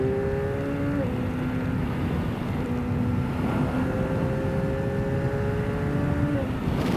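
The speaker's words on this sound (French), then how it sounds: "la sonorité d'origine est assez flatteuse, je trouve. La machine fait vraiment un son qui est plutôt cool." A Bimota KB4 motorcycle engine revving, with steady tonal engine harmonics that step up and down in pitch over a continuous low rumble, fairly loud and close.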